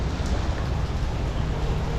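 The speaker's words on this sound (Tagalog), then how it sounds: "Hindi na, umuulan na dito." Steady rain hiss, a continuous wash of falling drops heard close and fairly loud, with no talking.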